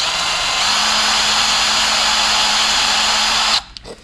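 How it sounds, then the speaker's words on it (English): Power drill boring into plastic for a bike stand build, a loud steady whine held for several seconds before cutting off abruptly, leaving a couple of faint clicks. "I'm going to have to get that drill bit in there just to clean out that plastic"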